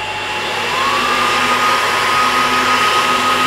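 A network access switch powering up with its cooling fan roaring, a steady loud whoosh with a whine that rises slightly in pitch and then holds, alone without talk.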